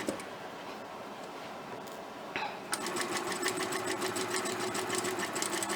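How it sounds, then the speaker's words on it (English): Sewing machine top stitching close to the edge of a picnic placemat, starting after a short pause and running as a steady, rapid, even needle chatter that fills the rest of the clip, close and clear with no talk. "I'm going to top stitch."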